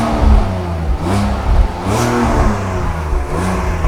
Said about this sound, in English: The double exhaust with that straight 6 inline give you that amazing sound.